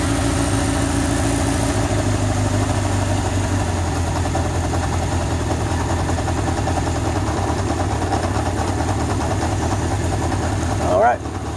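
A 1981 Honda CB750K motorcycle engine idles steadily, with its RPM being brought down from about 1600 toward 1200 during a cam chain tensioner adjustment. The low, even throb runs close and loud throughout, and a short higher whine rises near the end.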